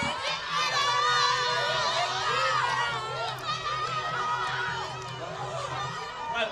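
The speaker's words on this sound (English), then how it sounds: "People, the crowd is quite getting bigger and bigger." A large outdoor crowd in Brikama gathers to welcome the president's convoy on a meet-the-people tour, with continuous cheering, shouting and excited chatter, children's cries rising above the loud, dense hubbub throughout.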